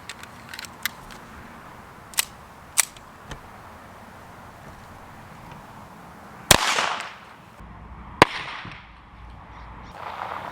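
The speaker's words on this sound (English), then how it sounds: "This is a Walther P22, and it's just a 40 grain solid lead 22 long rifle bullet." A Walther P22 pistol fires 40 grain solid lead .22 long rifle rounds at a Kevlar helmet, with several sharp cracks: small distant-sounding pops early, then two louder close shots with ringing tails.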